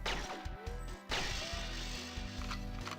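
Glass shot until it shatters in a video game: a few sharp crashing hits with bright breaking tails, loud and close, spread over about three seconds with no talking.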